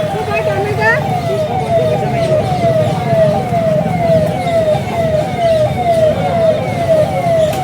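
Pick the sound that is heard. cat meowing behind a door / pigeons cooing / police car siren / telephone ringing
police car siren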